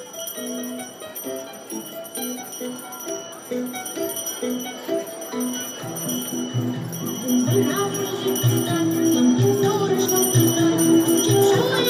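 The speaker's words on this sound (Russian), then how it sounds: "звенит первый звонок" The first school bell rings out at a school ceremony, a repeated bright jingling that grows louder amid crowd noise and voices talking nearby.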